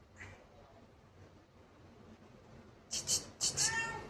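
A cat gives two or three short, close meows near the end after a faint earlier call, against quiet background noise.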